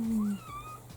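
A cat gives a single drawn-out meow near the start, close and fairly loud, followed by quieter indoor background.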